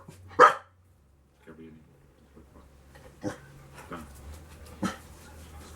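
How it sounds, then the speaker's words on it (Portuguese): Pet dog barking indoors during a live broadcast, one sharp loud bark followed by a few fainter barks and whimpers at intervals. "Desculpa, nosso cachorro aí entrou ao vivo."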